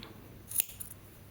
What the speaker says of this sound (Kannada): ಕುಚ್ಚು ಲೆಂತ್ ಎಷ್ಟು ಬೇಕೋ ನೋಡಿಕೊಂಡು ಥ್ರೆಡ್ನ ಕಟ್ ಮಾಡ್ಕೋಬೇಕು